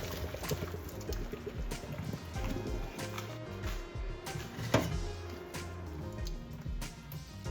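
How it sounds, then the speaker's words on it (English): Cooked tortellini pasta poured from a pot into a colander to drain, a continuous splashing pour of water with small clatters, fairly quiet. "so our pasta is ready to be drained. Pour that in there."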